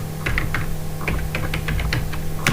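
A survey question being typed on a computer keyboard: quick, irregular key clicks up close, running over a steady low hum with no voices.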